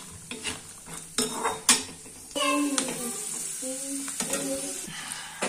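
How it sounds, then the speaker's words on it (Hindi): Dry fruits being roasted in a pan for Indian gond laddu, with a steady stirring and scraping of a spoon against the pan over a soft sizzle and occasional clinks. "अब इसमें हम ड्राई फ्रूट्स डाल के थोड़ी देर के लिए भून लेंगे, ताकि इन सब का मॉइस्चर निकल जाए"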